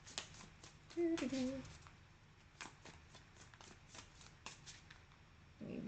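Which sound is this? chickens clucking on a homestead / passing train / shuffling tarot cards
shuffling tarot cards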